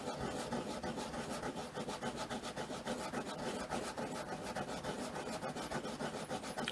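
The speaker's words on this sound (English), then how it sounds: "Get my sandpaper, get my art gum eraser," Sandpaper of 100 grit is rubbed briskly back and forth up close, making a continuous rough scratchy rasp with a quick steady stroke rhythm and no talking.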